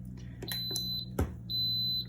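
A Pampered Chef Quick Cooker gives a few short clicks and then a sharp, high, steady electronic beep when started, sounding close in a quiet kitchen.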